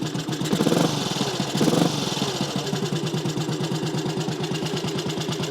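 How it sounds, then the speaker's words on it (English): A Matchless G11 classic motorcycle idling from a cold start, a steady loud lumpy tick-over close by with a couple of brief revs near the start, no talking. "that's a cold engine. It ticks over pretty well, really."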